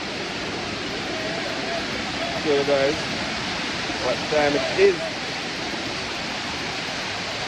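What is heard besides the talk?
water at Dunn's River Falls waterfall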